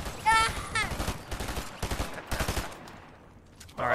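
Fortnite gunfire crackles in several loud bursts and single shots amid game effects and rising whistling tones, with the shooting fading out near the end.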